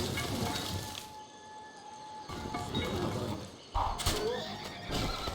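A horse neighs in a Civilization V game, a loud whinny with clip-clop hooves, layered over steady game ambience and short bursts of effects.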